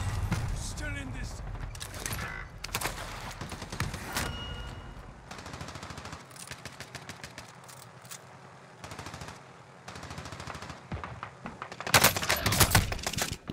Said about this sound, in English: They shoot me.